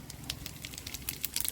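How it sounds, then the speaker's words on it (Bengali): Cumin seeds dropped into hot oil in a pan, crackling in quick irregular pops and light sputters over a faint sizzle, brief and close. "আমাদের তেলটা গরম হয়ে গেছে। এবার দিয়ে দেবো জিরে"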